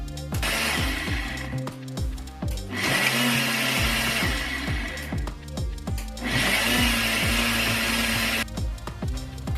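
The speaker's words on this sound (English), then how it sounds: "so I'm gonna add it now and blend it again" A kitchen blender grinds stew ingredients with added pepper, running in loud whirring bursts with clattering chunks and pulsing changes in pitch as the blades start and stop, close and continuous.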